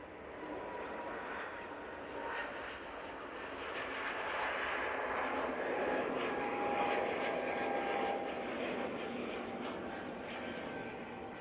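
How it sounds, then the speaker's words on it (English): An EasyJet airliner on its take-off roll at Manchester Airport gives a steady, loud engine roar that swells and holds, with a thin whining tone running through it, heard alone without talk. "There's an EasyJet on the roll"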